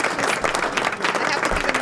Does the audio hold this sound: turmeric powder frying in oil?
no